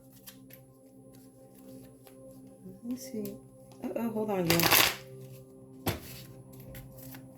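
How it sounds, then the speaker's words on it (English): Tarot cards being shuffled during a Scorpio and Gemini relationship reading, a few soft riffles and snaps building to a louder burst of card rustling near the end, with someone talking briefly. "Let me shuffle these up."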